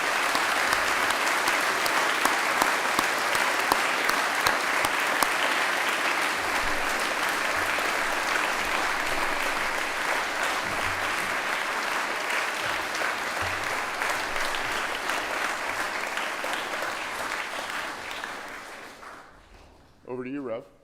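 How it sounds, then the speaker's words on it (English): A long, sustained round of audience clapping rolls through a school chapel service for athletics coaches and staff, even and fairly close, fading out near the end before a voice briefly begins speaking. "a nice round of applause to show our gratitude"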